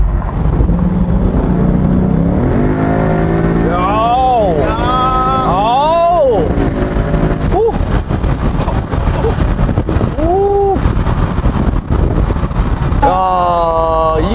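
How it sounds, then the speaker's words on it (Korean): A Ford Mustang with a 5.0-litre V8 accelerates hard, its exhaust rising in repeated climbing roars through gear changes, loud and close with wind noise, while someone talks over parts of it. "이 진짜 폭발적인 이 가속감, 그리고 이 배기음, 이 5000cc에서 뿜어져 나오는 이 솔직한 배기음"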